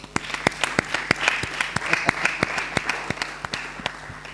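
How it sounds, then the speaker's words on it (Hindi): Scattered claps ring out from a church congregation during a Sunday sermon, a sparse, uneven run of sharp individual hand claps at moderate volume over a quiet room, with a faint voice in the background. "कोई ताली नहीं बजाया?"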